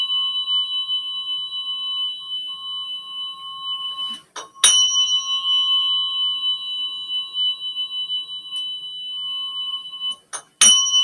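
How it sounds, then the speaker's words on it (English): A tuning fork ringing steadily with pure sustained tones, fairly faint and alone, broken by a couple of sharp taps as it is struck again. "Again, I'm moving this tuning fork into the field."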